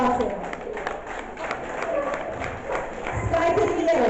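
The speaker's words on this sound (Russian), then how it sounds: "ваша овация" Crowd applause and cheering rise at an outdoor dog training center demonstration show, a steady wash of clapping and voices lasting several seconds with a public-address announcer speaking over it.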